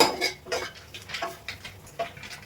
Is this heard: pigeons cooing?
no